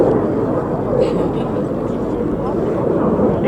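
Aerobatic jets of the synchro pair fly at the RAF Cosford Airshow, a continuous loud roaring drone with an announcer's voice talking over it.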